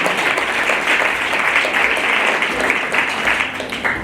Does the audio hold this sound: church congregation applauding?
yes